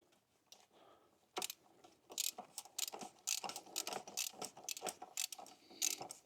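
A ratchet wrench with a large socket clicks in quick bursts as it loosens the oil filter cap on a Jeep, the rapid pawl clicks close and clear with short pauses between strokes and no talk.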